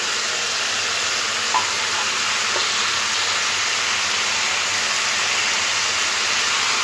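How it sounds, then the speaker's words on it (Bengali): Potatoes frying in hot oil for a vegetarian Bengali aloo curry, a steady, fairly loud hiss of sizzling oil that runs unbroken throughout with no talking. "আলুগুলো তেলের উপরে একটু লাল লাল করে ভেজে নেব।"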